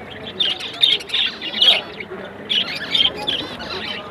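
Caged pet birds at the Dakshineswar bird market chirp close by in quick, bright clusters of high tweets that come and go in bursts.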